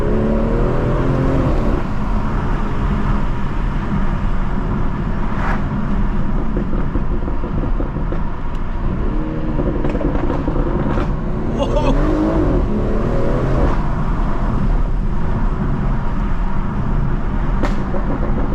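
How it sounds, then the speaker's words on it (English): A 400 hp BMW M240i engine roars and revs steadily under acceleration, with sharp exhaust cracks and pops breaking through the drone and a voice faintly underneath. "I'm still getting used to the exhaust. It surprises me quite a lot when it cracks."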